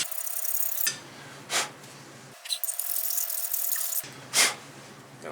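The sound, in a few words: hand file scraping rust off brake parts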